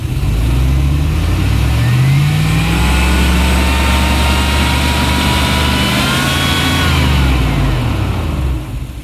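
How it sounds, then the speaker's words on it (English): An engine is held at high revs as the throttle is opened, then falters slightly as it bogs down. The drone is loud and close, with rising and falling tones, before it eases off near the end. "reach over here and open up the throttle and see if we get anything to change on our data display"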